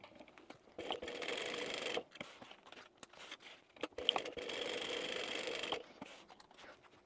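Sewing machine quilting a bag panel, running in two sustained bursts of soft whirring stitching separated by pauses and small clicks, quiet and close with no talking.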